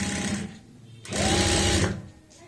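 Sewing machine stitching a simple border strip, a short run of motor whir, then a brief pause, then a louder sustained burst of close rapid stitching before fading.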